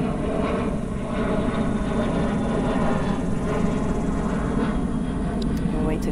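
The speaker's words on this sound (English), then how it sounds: "I'm wait till this plane crosses." Airplane passing overhead, a loud, steady roaring drone that fills the whole stretch, with a faint voice underneath.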